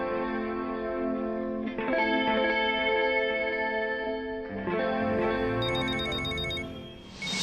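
A phone rings with a distorted, electronic melodic ringtone, repeating steadily and loudly throughout, with a brief high chiming flourish near the end.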